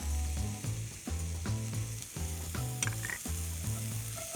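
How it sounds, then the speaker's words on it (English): Leeks sauté in extra virgin olive oil with a steady, close sizzle, while rhythmic pitched tones, like music, repeat over it throughout. "Saute these ingredients until just beginning to brown."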